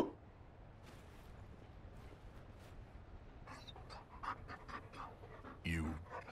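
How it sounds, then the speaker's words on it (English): A Mabari dog in Dragon Age Inquisition pants softly and steadily under quiet background sound, then makes a few louder close breathy huffs and a short whimper near the end. "You found a dog?"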